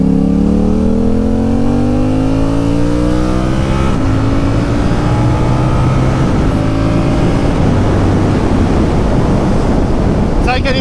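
A Yamaha R7 sport motorcycle, restricted for the A2 licence, revs up hard in rising engine harmonics that climb through the gears, loud and close, with heavy wind rushing over the microphone throughout.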